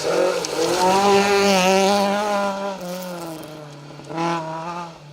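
A rally car on a stage of the Roger Albert Clark Rally roars past close by, its engine note climbing steeply through the gears, easing off, then surging again briefly near the end.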